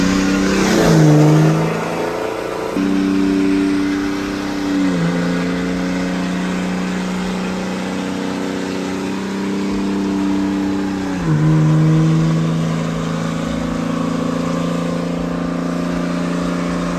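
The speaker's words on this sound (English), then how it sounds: "We're gonna do a little baby burnout," A custom SEMA show truck does a burnout. Its engine revs hard in several long, climbing pulls that drop back and rise again, loud and close.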